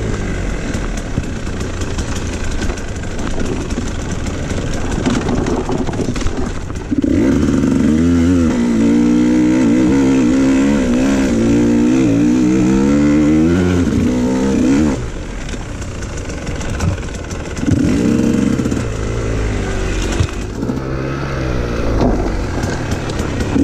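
A KTM 150 XC-W two-stroke dirt bike ridden along a trail, its engine droning steadily and loudly throughout, with rising and falling revs during acceleration and a second surge of throttle near the end.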